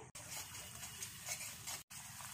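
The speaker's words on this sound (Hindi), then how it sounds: "और अब इसमें पानी डालेंगे।" Water poured into a simmering masala of cream and spices for a raw papaya kofta curry, a steady close splashing gush that runs continuously with two brief breaks.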